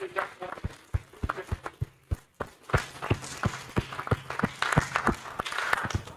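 Audience rising to its feet for a senator at a geopark capacity-building workshop in Baringo claps in a steady rhythm, sharp hand claps repeating close and clear, briefly thinning before picking back up, with murmuring between.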